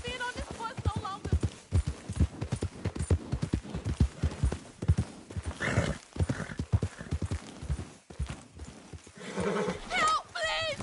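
Rhythmic clip-clop of horse hooves in a PS4 video game trots steadily, with a horse whinnying near the end and a voice speaking over it.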